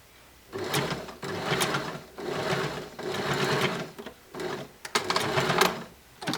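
A sewing machine stitches a garment's shoulder seam up close, running in several rapid bursts of whirring stitches with brief pauses between them.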